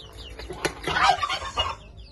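Chickens cluck nearby in a brief, irregular run of short calls that rises to a louder burst in the middle, with no one speaking.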